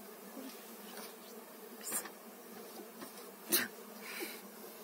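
Honeybees from a swarm being gathered off the ground buzz in a steady low drone, with a few louder passes as single bees fly close to the listener.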